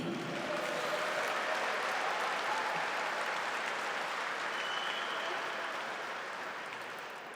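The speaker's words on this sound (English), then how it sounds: "please make some noise for Noah Jahnke." Sustained applause from an audience as a cross-country runner takes the stage at a steak fry fundraiser, a dense, even roar of clapping that holds steady then slowly fades near the end.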